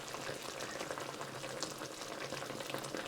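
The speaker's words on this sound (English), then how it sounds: "we're bubbling away nicely. The sauce has thickened slightly." Sauce simmers in a pan on the stove while making linguine, a steady, soft bubbling and faint sizzle that continues evenly throughout, close and quiet with no voices.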